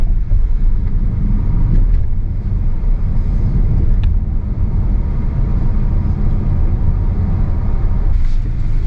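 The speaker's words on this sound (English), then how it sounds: "Floor it, here we go. Getting on the highway." A roughly 300-horsepower Tesla Model Y or Model 3 accelerates hard onto a highway, giving a steady, loud cabin rumble of road and wind noise that holds throughout with no talk.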